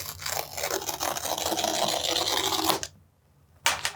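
Cardboard packaging of an Apple 15-inch MacBook Air being handled and opened, a dense, close crinkling and scraping rustle for nearly three seconds, then a pause and a brief sharp rustle.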